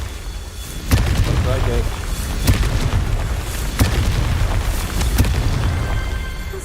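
Confringo spell blasts in the video game Hogwarts Legacy, several sharp booms at irregular intervals over a dense rumbling game soundscape, with a voice speaking briefly.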